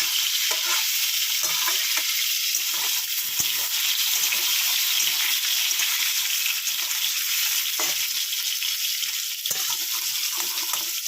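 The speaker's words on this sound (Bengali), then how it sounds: "জলটা ঝরিয়ে দিয়েছি এটা কষাবো" Salt-boiled potatoes, drained of their water, sauté in a hot pan with a loud, steady hiss and crackle, a close, unbroken sizzle with no voices.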